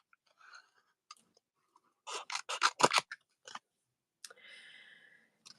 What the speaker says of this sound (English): I do love to fussy cut with large scissors.